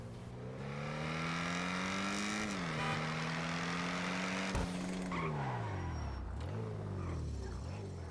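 A GTA V sports car engine drones and revs, pitch climbing through gears, dipping briefly, then winding up again, loud and close with a faint tire squeal.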